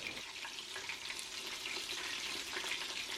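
Pieces of batter frying in hot oil give a steady, dense crackling sizzle close by, continuous from start to finish with no voices.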